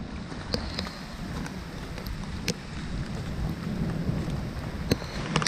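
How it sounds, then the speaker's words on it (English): Rain falls with distant thunder along the Appalachian Trail, a continuous moderate hiss with scattered sharp drop impacts and a low rumble underneath, no talking. "Oh yes, it is raining."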